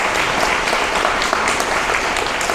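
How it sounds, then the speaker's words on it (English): A crowd claps steadily and densely for visual artists at a memorial gathering for lost trees in Bemidji, Minnesota, the applause continuous and close throughout. "let's give a round of applause for our visual artists"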